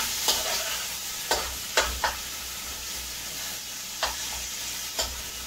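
Kapahar for a Guyanese seven curry being added and cooking in a pot, with a continuous loud sizzle and hiss punctuated by about six sharp spoon knocks against the pot.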